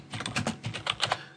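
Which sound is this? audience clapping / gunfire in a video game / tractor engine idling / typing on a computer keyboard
typing on a computer keyboard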